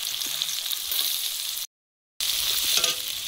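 Malabar spinach curry frying in hot oil with nigella seeds, chilli and spices gives a steady, close hiss of sizzling that cuts out for a brief silent gap, then resumes just as strong.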